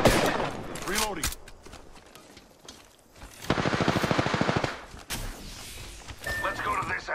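Bursts of automatic gunfire in the shooter game Apex Legends, rapid rattling volleys mixed with in-game voice callouts and effects, loud and close.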